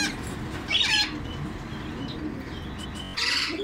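Pigeons at a Sunday bird market in Chichawatni, with a few short chirps and squawks over a steady crowded background murmur, close-by calls coming in two brief bursts.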